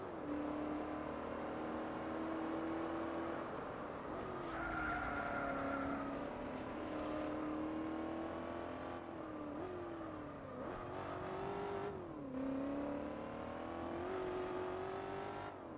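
Race car engines in Gran Turismo 4, a Sonda pulling away from a Porsche, whining high and rising through the gears with short dips at shifts and braking, a continuous close roar with faint tire squeal.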